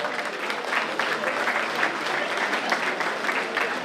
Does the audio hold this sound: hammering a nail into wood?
no